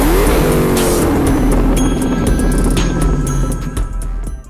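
Loud Dodge Demon final-edition muscle car engine roaring and accelerating close by, its pitch climbing then holding, with sharp higher sounds layered over it toward the end.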